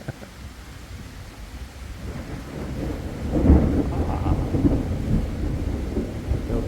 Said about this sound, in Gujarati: તોફાની જેવી રાત છે વરસાદ ગાજે છે વીજળી થાય છે